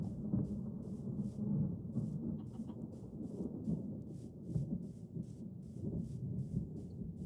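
Rolling thunder from a rotating storm rumbles steadily and loud in a modded Minecraft world, with a continuous low roar, rain hiss and repeated swelling peaks across the whole stretch.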